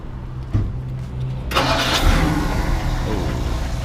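A 1960 Ford Starliner with a 352 V8 cranks, catches at about one and a half seconds, and settles into a loud, steady rumbling idle close by.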